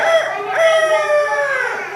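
Children at a school imitate a rooster's crow in a drawn-out, rising-and-falling call, loud and close, lasting about two seconds.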